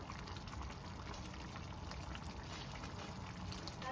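Egg curry simmering gently over a low flame, a steady soft bubbling and faint liquid crackle running evenly throughout with no voices.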